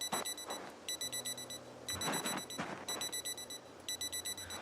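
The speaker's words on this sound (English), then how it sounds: "you guys are going to have to put up with alarms for a bit" Repeated electronic alarm beeps in a video game zombie-survival setting, bursts of rapid high-pitched tones with short gaps between them, loud and steady over several seconds with no talk.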